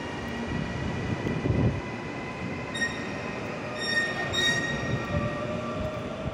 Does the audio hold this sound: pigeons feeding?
no